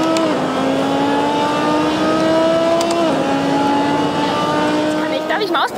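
An Audi R8 with a sequential gearbox revs hard around the Nürburgring in a racing video game played on a DIY force-feedback wheel. A loud, steady engine whine climbs through gear shifts while someone talks over it.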